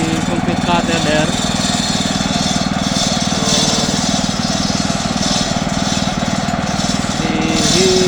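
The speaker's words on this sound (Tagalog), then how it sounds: "So you see the concrete cutter there." A concrete cutter saws a construction joint into a fresh concrete floor, a loud, steady engine drone with a whining blade running continuously throughout.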